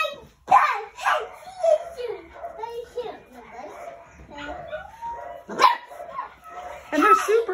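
Six-week-old puppies bark and yip in short, uneven bursts, with whining, whimpering cries between them, loud and close throughout.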